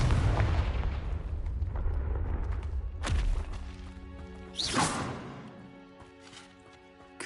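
Confringo blasting spell in Hogwarts Legacy bursts with a rumbling low roar, followed by two sharp whooshing blasts that fade into a ringing, tonal game backdrop.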